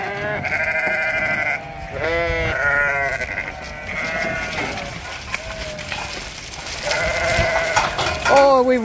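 Several sheep bleat repeatedly, loud and close, their wavering cries overlapping amid the bustle of a flock during shearing.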